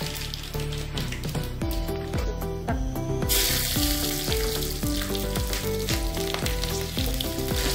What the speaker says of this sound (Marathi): आता तेल काढलेलं आहे, त्यात आपण जिरं मोहरी घालू